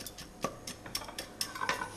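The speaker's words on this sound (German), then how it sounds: "Auch den Reis kurz anbraten, bis er eine glasige Farbe hat." Rice being briefly sautéed and stirred in a pan until glassy: quiet, irregular clinks and scrapes of a utensil against the pan, close by, with no talk over them.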